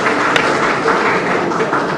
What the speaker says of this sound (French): Tous vos applaudissements, s'il vous plaît.